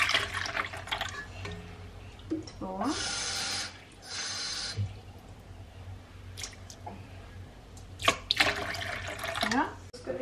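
Water is poured into a bowl for cinnamon bun dough during home baking with a small child, a short splashing pour in the middle of the clip with soft kitchen handling noises and talk around it.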